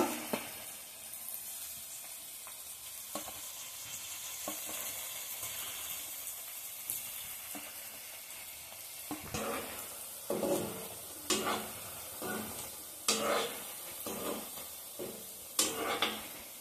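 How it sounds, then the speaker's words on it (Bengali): Rose-shaped pitha frying in hot oil in a home kitchen, a low steady sizzle under scattered clinks and scrapes of a utensil against the pan, with a few louder knocks toward the end. "বাকি পিঠাগুলো এখন ভেজে নেব"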